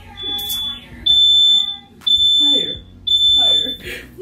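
A home smoke alarm sounds in three loud, steady piercing beeps, each roughly a second long with short gaps, while people talk over and between the tones.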